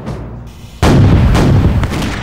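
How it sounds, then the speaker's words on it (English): Heavy cannon bombarding the outer wall of a castle in a siege: a loud, sudden boom breaks over low rumbling, then sustained roaring, reverberant noise continues. "They bombard the outer wall of this castle with heavy cannon to try and make a breach in the wall"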